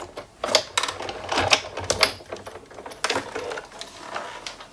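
A Sizzix die-cutting machine being cranked, producing a run of close mechanical clacks, ratcheting clicks and thumps in an uneven rhythm, with no talking.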